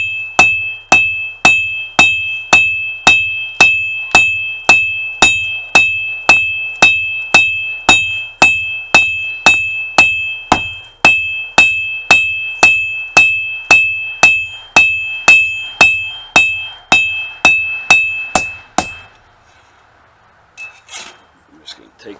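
A hammer strikes the bevel of a draw knife being forged, about thirty sharp ringing metallic blows in a steady even rhythm, loud and close, followed by quieter handling noises.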